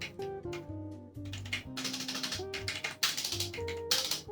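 Rapid clacking of ASUS Cerberus mechanical keyboard keys, non-Cherry MX Red switches, close up, in an irregular typing rhythm over a bed of background music.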